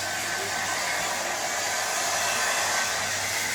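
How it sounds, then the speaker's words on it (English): A hair dryer drying a dog blows steadily and loudly from start to finish, a constant broadband whoosh with a low motor hum underneath. "Just move the hairdryer away a little bit"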